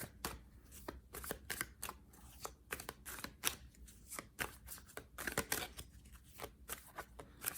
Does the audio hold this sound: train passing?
no